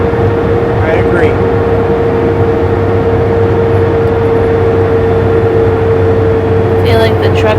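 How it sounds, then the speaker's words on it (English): Loud, steady drone of a Super B tractor-trailer truck engine at around 1,900 to 2,000 RPM, heard from inside the cab with the fan running; a constant low hum persists throughout, with brief voices talking over it. "I feel like the truck is just screaming."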